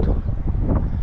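Wind gusts buffet the microphone on a countryside hiking trail, a steady low rumbling roar lasting about a second with no other sounds.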